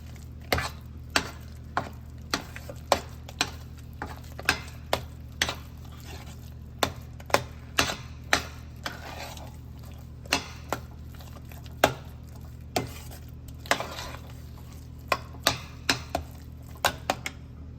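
Garlic, salt and pepper get stirred into a shepherd's pie mixture with cream, a steady series of sharp utensil taps and scrapes against a bowl, fairly close, with no one talking.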